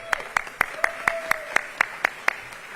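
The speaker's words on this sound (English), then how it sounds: "Let's clap that up" At a mayor's welcome event for public school educators, a single pair of hands claps about ten times in a quick, even rhythm, crisp and close, over a quiet room.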